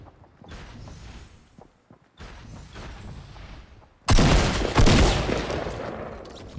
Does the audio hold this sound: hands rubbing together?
no